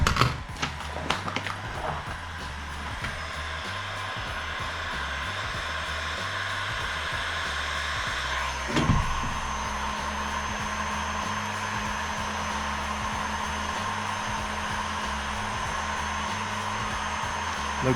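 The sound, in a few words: heat gun blowing hot air to heat a pistol magazine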